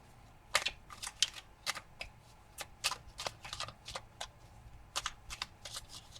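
Small mini tarot cards are shuffled and handled close up, a quick run of crisp riffling snaps and soft flicks in uneven bursts, with no talking over them.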